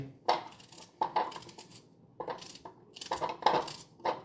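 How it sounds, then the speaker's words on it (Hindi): Onions being chopped for onion parathas on a Sunday breakfast: sharp knife knocks on a board come in irregular clusters of close, crisp taps with brief pauses between them, and no voices are heard. "आज मुझे खाने थे प्याज के पराठे, तो उसके लिए प्याज काटनी है मुझे"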